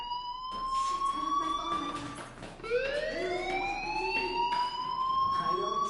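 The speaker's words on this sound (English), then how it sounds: "do you hear that fire alarm? That means you should be outside." Electronic fire alarm sounding through a school in a video game, rising and falling siren-like wails with bright harmonics, loud and continuous with a short dip before swelling again.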